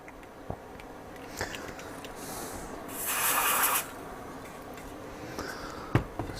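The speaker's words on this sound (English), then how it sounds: "I'll give it a squirt with some freezer spray." Freezer spray from an aerosol can is squirted onto an Icom ICB-1050 CB radio in one short hissing burst of under a second, with faint clicks and handling noise before and after.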